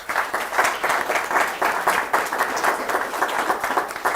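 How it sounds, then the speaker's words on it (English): Steady applause from a seminar audience as speakers leave the stage, dense continuous clapping at moderate volume with no talk over it. "let's appreciate them with a round of applause"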